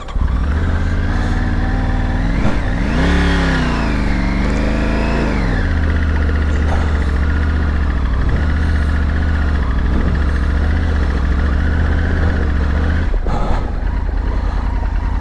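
A car engine drives off road on icy ground with a loud, steady drone throughout, rising and falling in one clear rev early on before settling back to an even pull.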